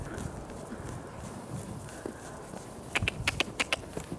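Horse hooves step on a thin layer of snow, a soft muffled shuffle that turns into a quick run of crisp, close clip-clop hits near the end.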